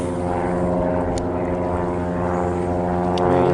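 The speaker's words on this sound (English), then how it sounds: "There's a few pontoon planes taking off also." Propeller floatplanes taking off near an island shoreline, a steady droning engine hum with layered harmonics holding fairly loud and even throughout, swelling slightly near the end, with no talk.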